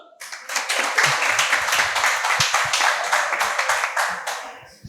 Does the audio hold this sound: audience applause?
yes